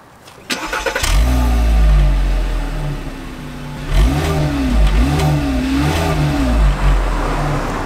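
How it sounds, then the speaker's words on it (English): A Lamborghini engine cranks and fires up with a roar, settles into a rumbling idle, then revs hard several times in quick succession, very close. "You guys can hear that Lambo engine roar."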